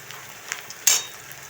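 Green chillies sizzle faintly in a hot pan, with a few soft crackles and one brief sharper hiss partway through.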